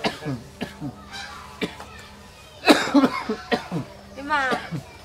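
A father coughing in a rural home, several harsh coughs mixed in among people talking nearby.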